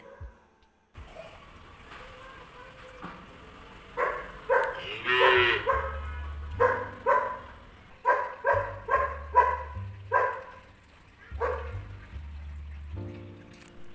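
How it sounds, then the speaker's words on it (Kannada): Cows mooing repeatedly at a house gate, with several rhythmic low calls close by, interspersed with other animal sounds and background noise. "ನಮ್ಮನೆಗೆ ಮೂರು ಹಸು ಒಳಗೆ ಬಂದು ನಿಂತಿದೆ"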